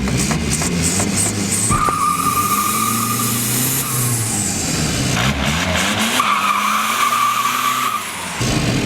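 A diesel VW Beetle fitted with a semi-truck exhaust stack launches hard, its engine loud and close with rising turbo whine, a long skid-like tire squeal, and rough revving that surges, eases, then climbs again before cutting off.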